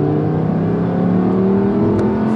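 A 2019 Audi R8 V10 Performance rated at 620 PS revs hard on a paddle downshift, its engine note a loud, close, steady howl that climbs slightly in pitch over a couple of seconds.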